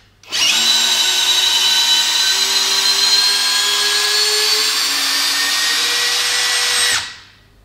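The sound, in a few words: Festool cordless screwdriver driving a large screw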